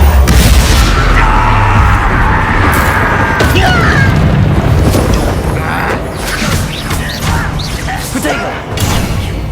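Confringo blasting spell explosion in Hogwarts Legacy, a loud booming blast opening a dense rumble of magical combat noise, crashes and whooshes that fade slightly over several seconds.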